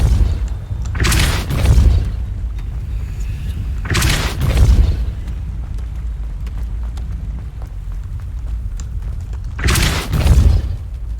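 Spells go off in Hogwarts Legacy while exploring a dark forest, giving three deep, booming magical bursts spaced a few seconds apart over a low ambient rumble.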